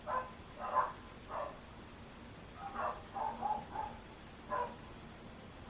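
Dogs barking across a city neighborhood, heard as faint, distant, scattered barks in short bursts over low background hum.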